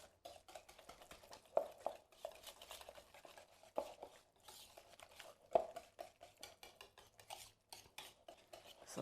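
Sweet potato mash being stirred with cinnamon in a bowl, a spoon scraping and clinking against the sides in irregular close strokes, with a few sharper knocks, no voices.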